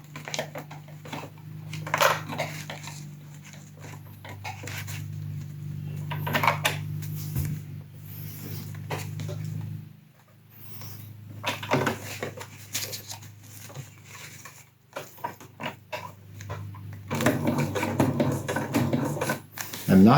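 Sewing machine running a straight stitch through backpack fabric, a steady low motor hum with a rapid needle patter that runs in bursts, pausing briefly midway, with scattered handling clicks and rustles.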